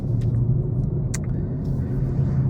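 BMW M340i running in sports mode in busy traffic, a loud steady low engine rumble heard from inside the car with a few light clicks and rattles on top.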